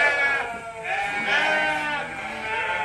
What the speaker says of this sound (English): The sounds of feeding. When you have a lot of sheep.